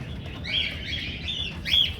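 Several short, high pigeon chirps from white lakka pigeons over a steady low background rumble, fairly faint and irregularly spaced.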